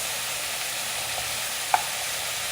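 Vegetables frying in a pot for a creamy vegetarian vegetable soup as asparagus is added: a constant close sizzle with one sharp clink partway through, no talking.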